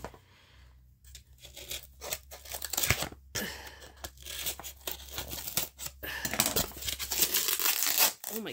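Packing tape being torn and peeled off an Amazon parcel: close, repeated ripping and crinkling strips, irregular and uneven, growing busier and louder toward the end.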